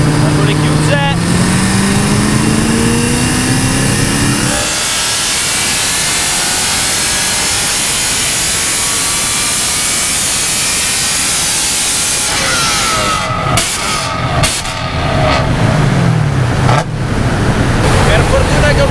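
A BMW M3 engine on a dyno roars at full rev for several seconds with a loud, raspy open-valve Armytrix exhaust, then drops back to a rough idle, very close and overwhelming.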